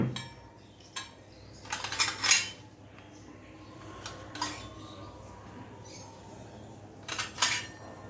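Plates and steel utensils clink and clatter in short bursts as plates are handed around at a home Hanuman puja, a few separate rattles over quiet outdoor background.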